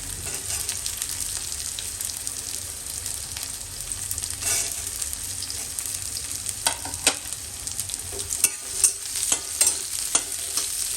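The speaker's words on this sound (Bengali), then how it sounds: "তো এটা ভালো মতো আমি ফ্রাই করে নেবো উচ্ছেটাকে।" Bitter gourd fries in a pan with a constant close sizzle, and stirring scrapes and clinks come through more often toward the end.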